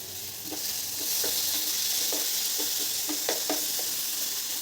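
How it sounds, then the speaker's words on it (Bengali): Papaya bhaji with coriander leaves sizzling in a pan, a constant hissing fry broken by several sharp clicks of stirring against the pan, close up and without talk. "পেঁপেটা আমার সিদ্ধ হয়ে এসেছে আর ভাজাও ভালোভাবে হয়ে গিয়েছে"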